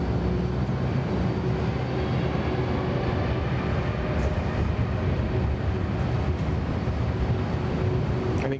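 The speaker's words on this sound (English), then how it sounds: "we're going to dedicate to you the 767 departure, and they're just starting to taxi now" A Qantas Boeing 767 taxiing at Sydney Airport, heard as a continuous loud, low engine rumble and roar with a faint steady whine on top, unbroken and without talk.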